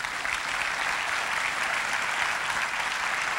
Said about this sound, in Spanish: Déjele un aplauso al Señor.